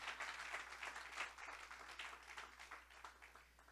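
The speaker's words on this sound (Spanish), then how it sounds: "Den un fuerte aplauso al Señor porque Dios es bueno" Church congregation applauds for the Lord, a faint, distant patter of clapping with uneven bursts over a low steady hum, gradually thinning out.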